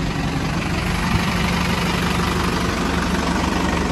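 A tractor engine idles in a sunflower field, a loud, steady low rumble with a constant knocking pulse and vibration throughout, close by and with no talking over it.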